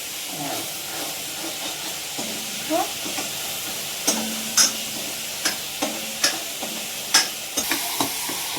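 Cumin and ground spice paste fry in hot oil in a home kitchen, giving a steady close sizzle. Sharp scrapes and clicks of stirring grow more frequent in the second half.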